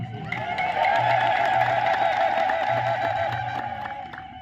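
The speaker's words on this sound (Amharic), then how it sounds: "የእህቶቻችን እልልታ ብቻ ነው ጎልቶ የሚሰማ።" Women in a church congregation ululate together, a sustained high trilling chorus that swells and holds, joined by crowd noise and some clapping.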